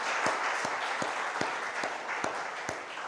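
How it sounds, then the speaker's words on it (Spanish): A church congregation claps in short, loose bursts of applause, moderately close and even in level, with no voices over it. "Denle un aplauso a Dios, por favor."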